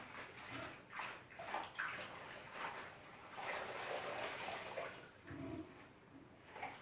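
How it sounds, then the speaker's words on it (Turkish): Fresh mint being soaked and washed in a basin of water at home, with soft sloshing and splashing in uneven bursts, quiet and close, and no voices. "Hepsini beraber ıslayıvereyim hadi."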